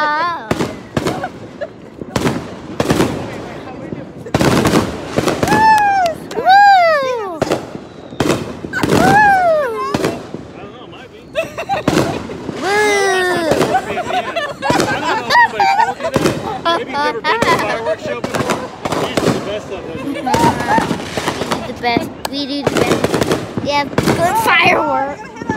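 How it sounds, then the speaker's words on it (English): Fireworks bang and crackle outdoors in repeated bursts over about 25 seconds, with people talking and shouting throughout between the blasts. "Fireworks are loud."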